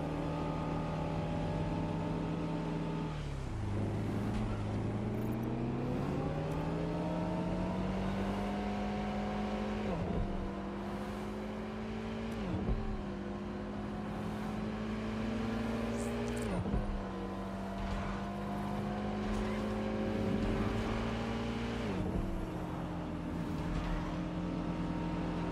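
A car in the video game Watch Dogs Legion drives itself on auto drive, its engine droning steadily with repeated rises and drops in pitch as it shifts, accelerates and slows, and no one talks.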